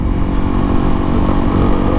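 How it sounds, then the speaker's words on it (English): A Honda motorcycle engine runs loud and close in a steady, high-revving drone with a rough, throbbing low end and no voices. "It's a high revving engine, not a whole lot of power, so of course I run it hard."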